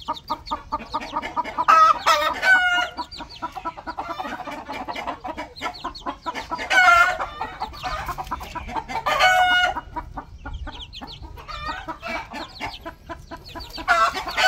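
Roosters crow loudly and nearby, several long calls overlapping, while chickens cluck and chatter continuously in the background of a farmyard poultry pen.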